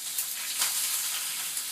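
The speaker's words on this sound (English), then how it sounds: "So the pan is steaming up, so I'm going to go ahead and add this spinach in here. Hear that sizzle." Spinach sizzles in a steaming hot pan, a close, continuous soft frying hiss with small crackles throughout.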